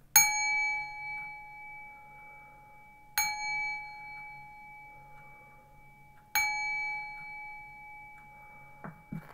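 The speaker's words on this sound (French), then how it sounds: "On fait, parce qu'on me l'a réclamé, un petit coup de gong, enfin 3." A gong struck three times at even intervals, each hit ringing with a bright metallic clang and a long sustained hum that decays slowly in a quiet room.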